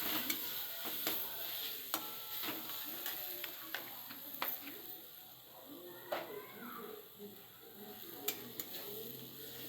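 Turmeric powder being stirred into ghugni curry frying in a pan, a soft continuous sizzle with scattered spoon taps and scrapes against the pot, faint and close.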